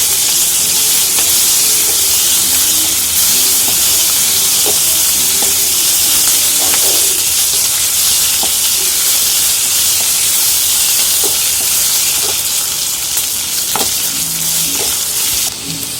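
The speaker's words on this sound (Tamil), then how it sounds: "இஞ்சி பூண்டு பச்சை வாசனை போகிற வரைக்கும் நல்லா வதக்கிக்கலாம்." Ginger garlic paste frying with onions in hot oil for a coconut-tomato kurma, a loud, dense, continuous sizzle close up, with occasional faint stirring clicks and no voices.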